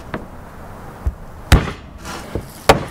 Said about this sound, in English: we're gonna try and hammer it closed,